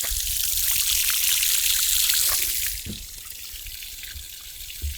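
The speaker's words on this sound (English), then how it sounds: "This is standing water in the boat. This is what is still draining." Standing water drains steadily out of a flooded fishing boat, a continuous close rushing trickle that abruptly drops to a quieter dribble partway through.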